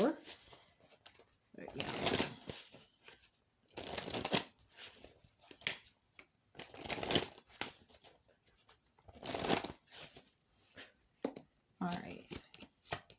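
A large pile of tarot cards dropped on the floor is gathered up and shuffled, with several bursts of close riffling and card handling spaced a couple of seconds apart while a person talks.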